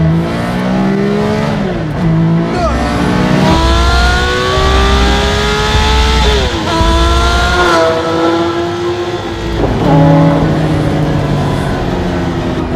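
A Singer-reimagined Porsche 911 engine revs hard and climbs through the gears, dropping pitch on sharp downshifts, loud and close with a rough exhaust note.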